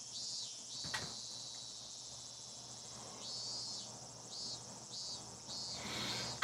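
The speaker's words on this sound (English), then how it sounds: "The great chorus of the cicadas was strongly underlying how nothing was different today than" A chorus of cicadas from the video game Higurashi When They Cry drones steadily, with pulsing trills swelling in and out over a faint background hum and a single sharp click early on.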